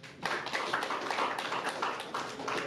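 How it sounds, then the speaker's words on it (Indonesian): Audience applause at a political activists' gathering, a dense continuous patter of many hands clapping, steady and moderately loud for the whole stretch with no talk over it. "Tepuk tangan."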